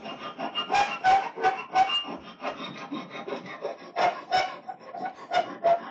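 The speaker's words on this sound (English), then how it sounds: "So I'll get my file over here and we'll clean up the edges of this." A hand file rasps in rhythmic back-and-forth strokes, cleaning up the edges of a part during a compressor air cooling repair, close and moderately loud with short pauses between passes.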